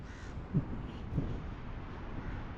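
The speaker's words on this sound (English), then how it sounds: "one of the crows I don't have is the house crow, which is basically what this is." A house crow in Durban gives two short, harsh caws about half a second apart over steady outdoor background noise, at middling distance and fairly faint.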